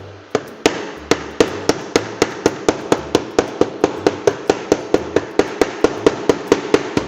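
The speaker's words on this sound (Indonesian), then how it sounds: "untuk ngilangin ini pakai palu las yang tadi dijelaskan di awal" A welding chipping hammer knocks slag off a fresh weld in a steady run of sharp metallic strikes, about three per second, loud and close, with no talk over it.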